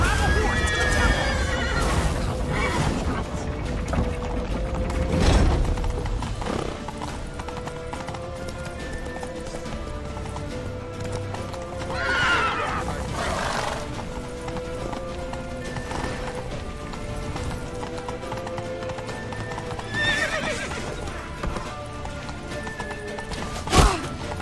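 Horses in The Witcher 3 whinny loudly and gallop with fast clip-clopping hooves, neighs rising several times over the pounding run while voices shout urgently in the game.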